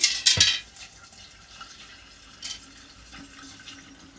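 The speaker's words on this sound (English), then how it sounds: "I'm going to add some water." Water splashes into a pot of chanca piedra herbs in a brief, loud gush at the start, then settles into faint trickles and drips in a quiet room.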